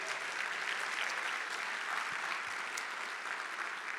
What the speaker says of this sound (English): Let's give a round of applause for Memorial